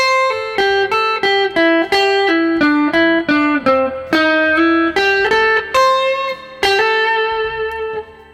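Blues lead guitar lick running a minor pentatonic sequence with pull-offs, a quick string of bright, clean notes in steady rhythm, ending on a sustained note.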